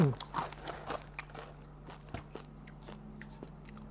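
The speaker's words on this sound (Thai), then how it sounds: "แคบหมูกับ น้ำพริกกะปิมะม่วงลุยครับ" Crisp crunching bites of pork rinds eaten with mango shrimp-paste chili dip, a few sharp crackly bites near the start followed by softer chewing, close and fairly quiet with a low steady hum underneath.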